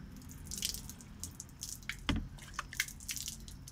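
Water poured over the glass of a Mahindra Marazzo's rear view mirror treated with an anti-fog, anti-rain coating, giving faint scattered drips and small splashes with one brief louder spatter midway and no talking.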